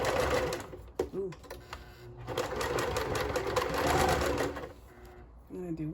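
A sewing machine set to its longest stitch runs steadily while sewing a simple pillowcase, a continuous mechanical whir with brief pauses and restarts, close and fairly loud, with a few spoken sounds over it.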